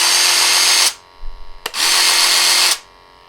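A Recover Fun massage gun running on its highest speed setting, a loud close buzzing whir in two long bursts separated by a brief pause with a click.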